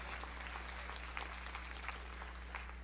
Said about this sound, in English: Clap your hands for the victory.